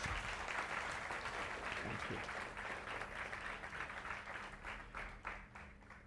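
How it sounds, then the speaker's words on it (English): Audience applause welcoming Zia Sheikh to the stage at a talk, a broad wash of many hands clapping that holds steady for several seconds, heard from a distance and fairly quiet, thinning out toward the end. "let's welcome Mr. Zia Sheikh with a huge round of applause"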